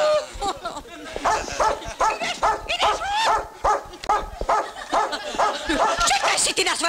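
A dog of a rare breed barks repeatedly in short bursts while several voices talk over and around it.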